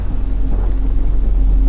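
Sound effect of a stormy rainy night: a deep, continuous thunder rumble under steady, dense rainfall, loud and close throughout with no voices.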